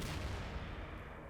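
A Composition B explosion effect from Garry's Mod, in Day of Infamy style, gives a single faint, muffled deep boom that rolls off in a decaying low rumble.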